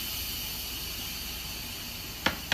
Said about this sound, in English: it's almost released on its own, but it's still got just a little bit of steam left in